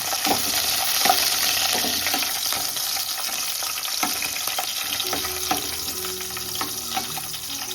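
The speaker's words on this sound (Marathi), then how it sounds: "लसूण टेकले आहे तो सुद्धा टाकून घेऊ आणि मिरची मस्त परतून घेऊ आता" Curry leaves, garlic and green chillies fried in hot oil in a pan, a loud, steady sizzle close by with repeated scraping stirs of a spatula throughout, no voices.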